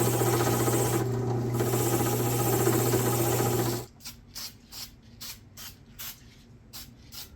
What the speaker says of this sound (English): So let's go ahead and wire brush these.